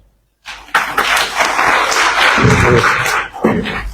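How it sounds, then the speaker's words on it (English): Applause from an audience at a Liberian financial education and literacy program launch, a dense sustained clapping wash starting abruptly after a short silence and holding steady and loud. "Let's give her another round of applause, please"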